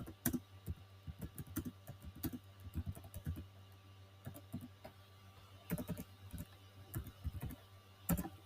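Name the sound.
typing on a computer keyboard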